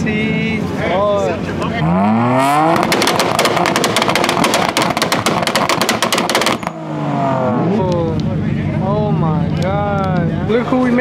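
Nissan GT-R engine revving hard, with a burst of rapid crackling backfire pops lasting a few seconds, loud and close, while people talk excitedly before and after.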